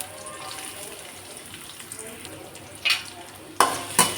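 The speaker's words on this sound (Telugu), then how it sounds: "సిమ్లో పెట్టుకొని ఆనియన్స్ బాగా ఫ్రై చేసుకున్నాను" Thinly sliced small onions frying in a pan on low heat give a quiet, steady sizzle, interrupted by a few sharp stirring clinks and scrapes near the end.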